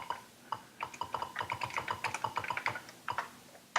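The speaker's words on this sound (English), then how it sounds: "so you can type in commands" Commands typed on an Atari 8-bit computer keyboard, a quick run of crisp key clicks at an uneven rhythm, close and fairly quiet with no voices.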